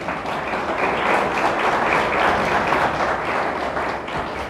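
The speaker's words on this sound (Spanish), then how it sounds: "Le damos un fuerte aplauso a Dios." Loud, dense applause from a large church congregation, steady and continuous throughout.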